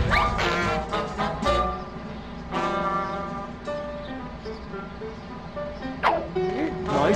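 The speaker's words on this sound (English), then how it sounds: "Nice doggy!" A dog barks in the Ed, Edd n Eddy video game, several loud yipping barks near the start, then sparser ones over game sounds and voices.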